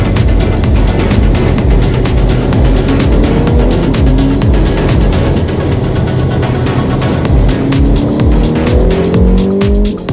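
A Ferrari Amalfi is driven on the road: a loud, continuous engine roar fills the whole stretch, rising and falling through the gears, with tyre noise throughout.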